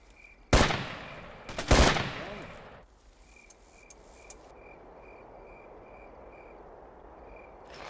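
Two sharp, loud bursts of gunfire crack close by in a Ghost Recon game, the second longer and rattling, then fade into quiet night ambience with chirping insects.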